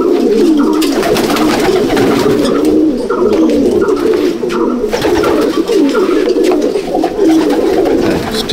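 Racing pigeons crowd a loft, many birds cooing loudly and continuously in overlapping, rolling calls, with occasional rustles and handling noises close by.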